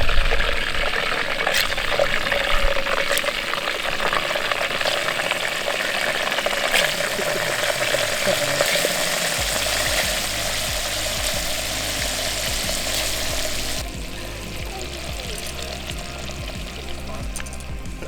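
Battered cutthroat trout nuggets, coated in egg and seasoned flour, fry in oil inside a Jetboil camp stove pot, giving a steady, loud, close sizzle and crackle with bubbling that continues throughout, thinning slightly near the end alongside a low burner hum.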